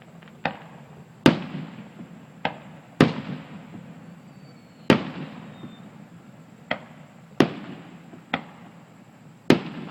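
Early 4th of July fireworks bursting over Briarwood Country Club, a dozen or so sharp distant booms at irregular intervals, each trailing a crackling rumble, with no talk.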